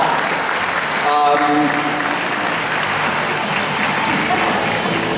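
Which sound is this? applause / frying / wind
applause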